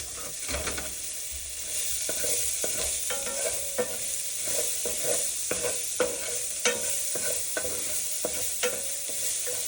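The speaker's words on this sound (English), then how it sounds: "Let it all get a nice little sizzle." Steady sizzling of garlic in a hot pan with scraping stirs and small crackles throughout, fairly close, no talking.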